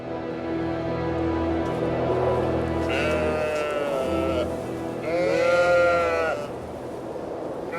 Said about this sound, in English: Fields and sheep as far as the eye can see.